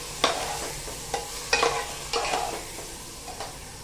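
Soaked rice and lentils being sautéed and stirred in a pan for Khandeshi masala khichdi: a low sizzle runs throughout, broken by several sharp scraping stirs at irregular intervals, close by with no talking.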